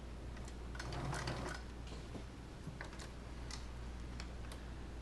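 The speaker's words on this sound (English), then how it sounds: "Now I'll do a back stitch where I stop." Sewing machine back stitching a leather shoulder bag, a quiet run of quick mechanical ticks and taps in short bursts, with a brief louder rattle near the start, over a steady low hum.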